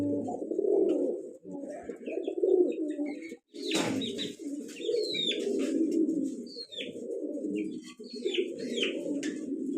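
Pigeons at a Bangladeshi pigeon farm coo steadily in low, throaty rolling calls, close and continuous, with a few chirps from other birds and a brief rustle partway through.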